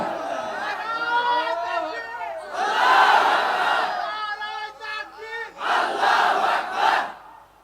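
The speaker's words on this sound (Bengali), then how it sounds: "কারা কারা দেখতে চান দুহাত তুলে স্লোগান দেন" Crowd at an outdoor Islamic religious rally in Bogura, Bangladesh, raising their hands and chanting slogans in loud bursts between stretches of a preacher's amplified voice.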